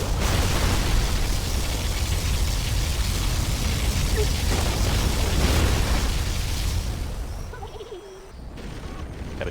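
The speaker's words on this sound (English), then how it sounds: "Particle cannon activated." A particle cannon superweapon in a real-time strategy game fires a long, loud roaring blast that sustains as a dense rumbling burst for several seconds, then drops away into quieter game ambience.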